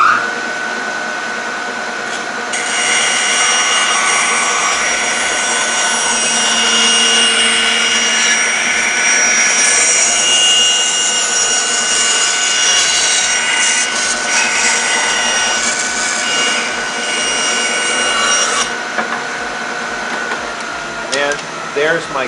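A bandsaw cuts a freehand curve through wood, a loud steady whining roar that rises after a couple of seconds and holds for about fifteen seconds before dropping back, with a person speaking at times.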